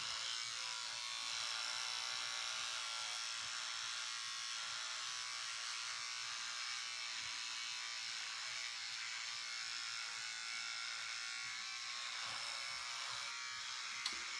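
An electric razor hums in a constant high buzz while it shaves, close and steady throughout with no speech.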